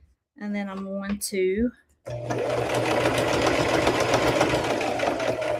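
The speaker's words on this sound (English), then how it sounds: "And then I'm just going to sew, take my time." A sewing machine stitches fabric in a steady, loud mechanical whir after someone speaks briefly at the start.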